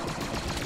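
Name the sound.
machine gun fire in Squad Star Wars mod video game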